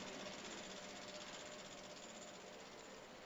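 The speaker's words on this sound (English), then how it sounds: "Centrifuge at 1500 RPM for 2 to 5 minutes." A laboratory centrifuge spins at 1500 RPM during a formol-ether fecal parasite concentration test, giving a faint, steady whirring hum with a fine fluttering texture and no voices.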